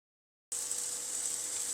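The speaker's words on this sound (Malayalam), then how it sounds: "നമുക്ക് ഒരു പാൻ വെച്ച് ചെറിയ മീഡിയം ചൂടിൽ ഈ വഴുതനങ്ങ ഒന്ന് ചെറുതായിട്ട് വറുത്തെടുക്കണം" Brinjal frying in a little oil in a pan over medium heat, a steady soft sizzle that starts abruptly and holds evenly, close and fairly quiet.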